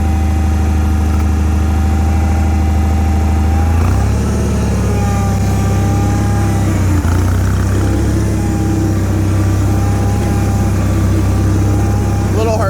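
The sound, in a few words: Bolens HT-23 garden tractor with Kohler engine being driven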